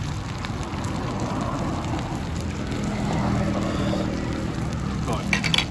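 Hot pot broth boiling hard on a burner gives off a steady, dense bubbling and hissing that runs the whole time, close and fairly loud with faint clinks near the end.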